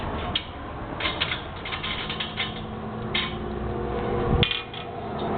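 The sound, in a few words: loosening wing nuts on carriage bolts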